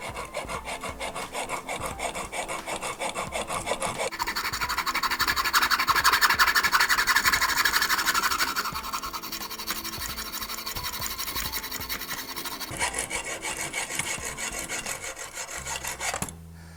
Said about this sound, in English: I just have a hacksaw here. I'm gonna come in real close, right on the edge of that brass crimp ring.